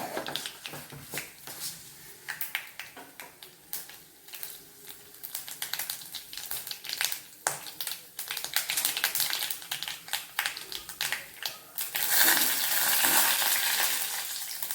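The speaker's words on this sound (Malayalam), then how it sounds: "കടുക് പൊട്ടി" Mustard seeds and urad dal crackling in hot oil for cabbage stir-fry, a dense stream of rapid close pops over a frying hiss that swells louder toward the end.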